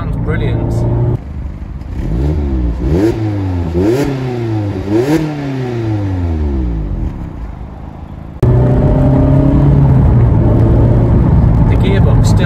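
A Mazda MX-5 MK4 engine revs up repeatedly while driving, rising in pitch through several gears with quick dips at each shift, loud and close from inside the car, then settling into steady road noise and cruising hum.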